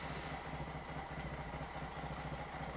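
A 2021 Honda Monkey motorcycle on its stock exhaust idles steadily, giving a continuous low, even throb with no revving.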